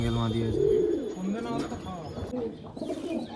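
Pigeons coo in low, throaty rolling calls at a pigeon sale in Ichapur, West Bengal, the males' repeated burbling close and fairly loud over a busy background with faint voices.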